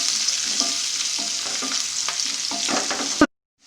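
Steady frying sizzle with repeated scraping strokes of a spatula stirring onions and vegetables in a pan, close and continuous, cutting off abruptly at the end.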